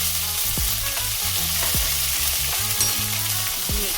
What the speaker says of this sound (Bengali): এই যে মশলা বাটাটা আমি দিয়ে দিলাম।